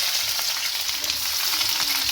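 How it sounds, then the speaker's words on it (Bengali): Chopped onions sizzle in hot oil in a home kitchen pan, a loud, steady crackling hiss that runs throughout with no talk. "তেলটা গরম হয়ে গেছে এবার আমি পেঁয়াজগুলো তেলের মধ্যে দিয়ে দেবো"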